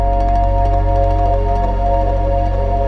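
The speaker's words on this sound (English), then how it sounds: "each one of these harmonic strums creates a different chord." Electric guitar harmonic strums ring together as a loud, sustained, bell-like chord over a deep steady low drone, with no talk over it.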